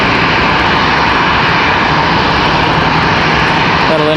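Jet engines of a Lufthansa Airbus A350 at Charlotte Douglas airport produce a very loud, close, sustained roar that fills the whole stretch without letting up.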